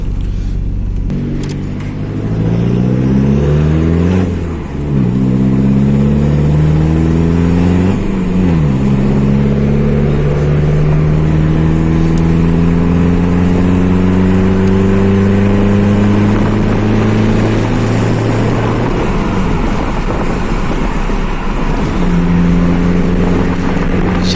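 Cars at a car meet rev their engines, including a 1.7 Corsa, with loud rising and falling revs and repeated gear-change sweeps, close and continuous for the whole stretch.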